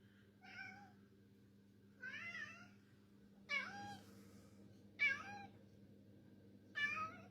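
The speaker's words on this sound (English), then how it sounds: "Even the cat's coming over to investigate." A house cat meows five times at even intervals, each call rising and falling, fairly close over a steady low hum in a quiet room.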